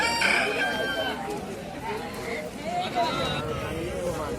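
Aseel fighter roosters crow at a busy rooster market in Odisha, with a crowing call near the start and clucks and further calls over the steady hubbub of people talking nearby.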